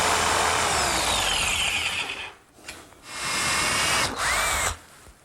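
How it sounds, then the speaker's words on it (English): Jigsaw cutting out a slot in wood between drilled holes, a close, loud buzzing saw with a rapid reciprocating rasp, cutting steadily for about two seconds, stopping, then running again in two further bursts. "I'll clean it out with my jigsaw."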